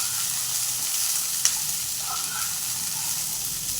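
Cabbage, carrot and capsicum stir-fried for noodles in a hot pan, giving a steady close sizzle with a faint tap of a spatula, no talk.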